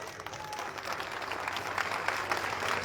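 Steady, fairly faint applause from a standing crowd honoring a guest at a Maharana Pratap birth anniversary gathering, continuous and slightly rising over about three seconds without speech on top.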